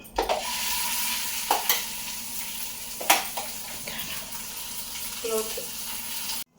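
A spoon scrapes and stirs tomato-coriander chutney into a tempering in a pan with a soft sizzle underneath, a few sharper clinks standing out along the way.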